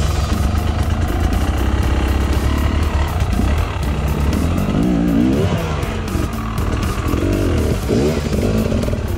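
Enduro dirt bike engine on a hard enduro track, revving loudly and continuously with rising and falling throttle bursts as the rider lines up a tight turn, close by with no talk.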